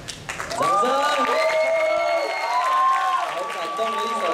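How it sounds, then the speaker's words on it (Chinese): Audience at a group singing-competition final breaking into applause, with sustained cheering and whooping voices riding over the clapping, loud and close for several seconds. "掌声！"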